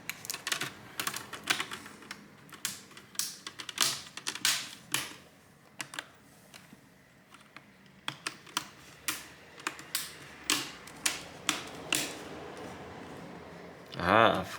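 Crisp clicks and light taps from a Dell Inspiron 14 P185G laptop screen bezel being pressed into position, a quick irregular series of close snaps, ending with one brief louder sound.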